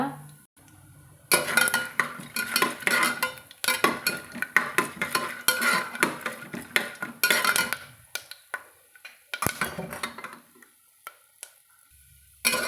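Chana dal being dry-roasted and stirred in a cooking pot, with a busy run of scraping and clinking of a spoon against metal for most of the stretch before it quietens near the end.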